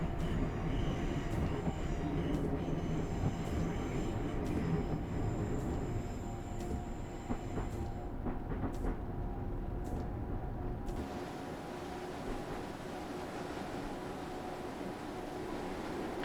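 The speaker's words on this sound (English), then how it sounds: "it's quite nice when we get an electric train. Actually got a bit of noise to it" Electric train running on the Mittenwaldbahn in Train Simulator Classic, a continuous rumble of wheels and motor with rhythmic clicks of rail joints, fading to a smoother hum near the end.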